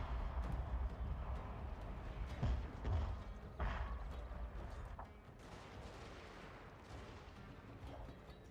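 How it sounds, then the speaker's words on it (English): Wooden cannons fire in a Total War: Fall of Samurai battle, a series of muffled distant booms and thuds scattered over low battlefield rumble, no voices present. "These wooden cannons."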